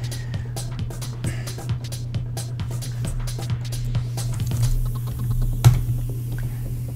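Rapid, steady clicking of keys on a computer keyboard, close and fairly loud, with a constant low electrical hum running underneath and no talking.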